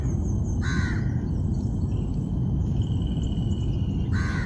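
An ibis near a crocodile gives two harsh, cawing calls a few seconds apart, heard over a loud, constant rush of outdoor background noise.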